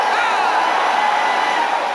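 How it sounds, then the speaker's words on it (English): Enthusiastic applause and cheering from a large crowd at a Louis Farrakhan rally, a dense, steady roar of clapping and voices sustained throughout without a break. "Louis Farrakhan was the main draw, though, and he took the stage minutes later to enthusiastic applause"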